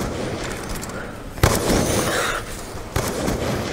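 Pistol gunshots in a video game: two sharp, loud single shots about a second and a half apart, each with a short ringing tail, over a steady background bed of game noise.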